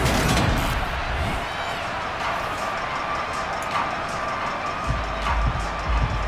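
Stadium crowd in the Madden NFL 23 football video game, a steady, loud roar of cheering fans filling the whole stretch with a few swells near the end.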